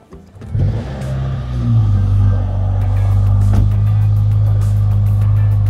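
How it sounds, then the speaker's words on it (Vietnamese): A Mercedes-AMG SL43 convertible starts up with a rising engine roar, then settles into a strong, steady rev and idle hum that stays loud and close for several seconds, no talking over it. "âm thanh của SL43 nghe nó rất là cuốn hút các bạn nha"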